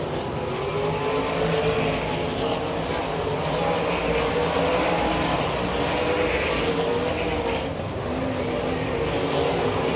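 Sprint cars from the All Stars and NCRA series race on a dirt track in Wichita, Kansas: a continuous loud roar of high-revving engines, rising and falling slightly as cars pass, with no break.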